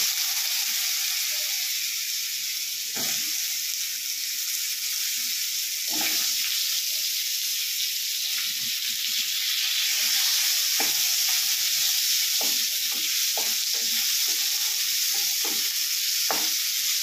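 Potatoes frying in a pan with spices, a continuous loud sizzle broken by repeated scraping stirs of a spatula, close up and without voices.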